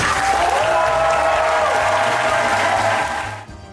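Warm applause from an audience at a Jubilee 2025 pilgrimage event, sustained loud clapping with a low music-like hum underneath, fading out near the end.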